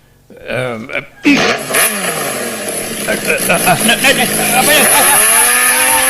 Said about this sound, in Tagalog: Iso nga raw na binulod ko to'y motor ni Frida.